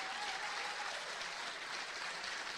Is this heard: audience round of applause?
yes